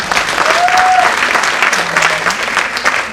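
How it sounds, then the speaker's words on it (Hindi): A student networking event audience claps loudly and steadily for Sonu Panchal, a dense ovation that lasts throughout, with a brief whistle-like tone rising above it early on. "सर के लिए एक बार जोरदार तालियां लीजिए"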